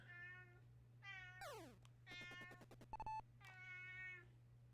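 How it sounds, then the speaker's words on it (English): A cat meows several times in a row, clear and fairly close, over a steady low hum and scattered electronic beeps and tones from a baseball video game playing in the room. "the cat is making his presence known"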